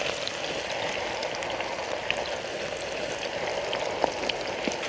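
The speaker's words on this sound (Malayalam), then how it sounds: "കുറച്ച് ഉള്ളി വറുത്തെടുക്കാം." Sliced onions fry in hot oil toward golden brown, for a Hyderabadi green chicken curry; a dense, even hiss and crackle close by throughout, with occasional brighter pops and no talking.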